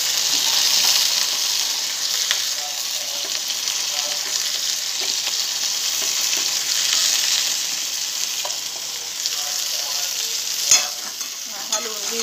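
Boiled green peas being stir-fried with potatoes in a pan, a continuous close sizzle broken by scraping stirs and a sharp clack of the spoon near the end, no talking.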